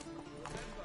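Horse hooves in The Witcher 3 game, a quick close clip-clop of a ridden horse setting off, brief and mixed with a voice.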